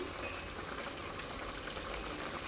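Bottle gourd boiling in a pot for a gravy, a continuous bubbling, hissing wash that stays steady and fairly close throughout.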